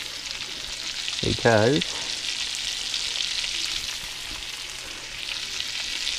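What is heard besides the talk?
onions frying in a pan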